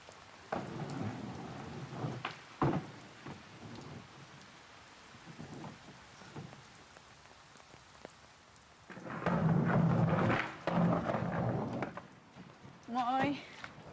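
Steady rain falls with rumbles of thunder in a Finnish TV drama scene, building into a louder, heavier downpour and thunder roll near the end.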